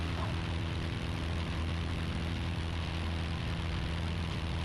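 A light propeller aircraft engine drones steadily during climb-out from inside the cockpit, a loud, even, low roar with a constant pitch filling the whole stretch.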